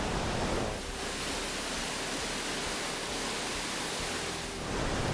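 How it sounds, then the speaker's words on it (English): Steady broadband rush of Bracklin Falls waterfall in the Callander countryside, a continuous even roar heard from nearby with no voices over it. "you've got just the sound of the falls in the back"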